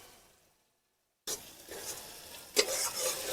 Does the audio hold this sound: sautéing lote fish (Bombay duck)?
yes